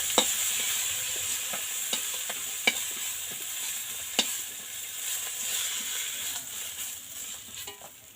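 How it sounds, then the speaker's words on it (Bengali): Prawns frying in a pan for a jackfruit dish, a steady close sizzle with scattered sharp pops and the occasional clack of a spatula, no voices. "বন্ধুরা এবারে ভেজে নিচ্ছি চিংড়ি মাছ।"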